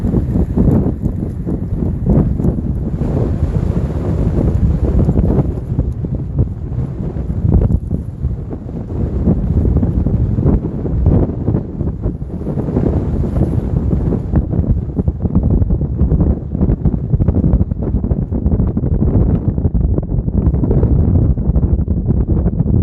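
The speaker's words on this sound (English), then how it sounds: "It's gonna be tough fighting across this wind" Strong wind buffets the microphone on a lake during bass fishing, a continuous heavy low roar with gusty surges and no breaks, loud and close, with no voices over it.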